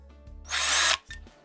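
Power drill bores through a ceramic teapot in one loud, steady burst of roughly half a second, with quieter tool handling noise before and a short second buzz after.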